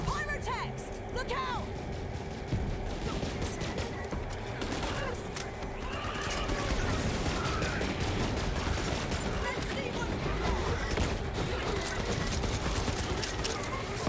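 Continuous gunfire in a Borderlands 3 firefight against armored tanks, dense rapid shots and crackling impacts running throughout, with speech over the battle.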